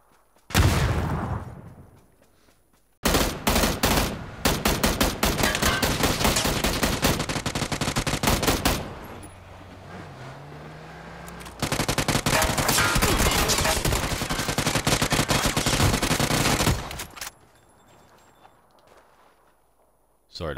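Rapid automatic gunfire from a shooter video game crackles in long, dense sustained bursts, loud and close, with short pauses between volleys and occasional voice chat under the shots.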